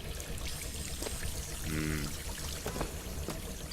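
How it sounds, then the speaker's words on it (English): Hot water pours steadily from a tap in the Bioshock Infinite game, a continuous rushing stream that stays even throughout at moderate level, with no talk over it. "Let's waste all of Comstock's hot water"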